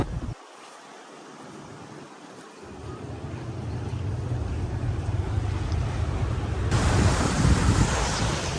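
Water surges and wind gusts at Chashma Barrage in Dera Ismail Khan, a continuous wash of rushing water and wind buffeting the microphone that builds louder toward the end, with no talking.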